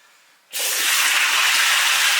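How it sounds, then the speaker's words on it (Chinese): A large white fish dropped into hot oil in a big iron wok bursts into a sudden loud hiss that holds steady and close after a short moment of quiet. "先把鱼煎一下。"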